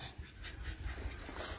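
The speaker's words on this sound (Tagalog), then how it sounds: "Ay, yung aso ko nasa ito." A dog at a rural bahay kubo in Bataan, panting quickly and softly at close range for a moment.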